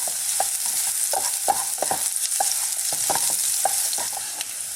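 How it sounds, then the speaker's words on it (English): Ginger sticks fry on high heat for a steamed ginger fish, a steady close hiss of frying with repeated stirring scrapes and taps of a utensil against the pan, no voices. "I just want to fry this for about 2 minutes on a high heat"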